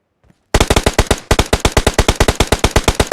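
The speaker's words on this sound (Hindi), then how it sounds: "अब भाई इसी AKM से मैं 2 लोगों को कूटूंगा, वो भी एक शॉट बिना रिलोडिंग के और बिना कवर के" An AKM rifle fires in a video game, with a long loud close burst of rapid evenly spaced shots, briefly broken once and then continuing, after a moment of near silence.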